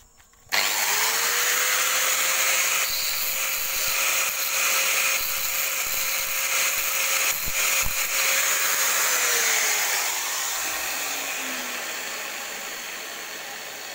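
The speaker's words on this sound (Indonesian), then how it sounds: "Sudah kita siapkan gerindanya." An angle grinder runs up to a steady high whine while grinding a dented refrigerator evaporator, holding for several seconds, then its pitch falls as it spins down, loud and close with no talk.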